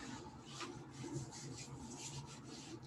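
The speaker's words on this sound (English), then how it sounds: "scratch, rub the outside of your body, the skin" Hands scratching and rubbing the skin of the body during a movement exercise, a faint, close, continuous soft rasping and brushing friction with slight rhythmic swells.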